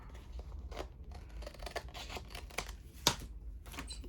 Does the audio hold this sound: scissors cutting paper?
yes